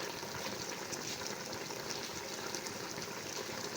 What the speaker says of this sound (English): I'll be adding water, the required water I need now.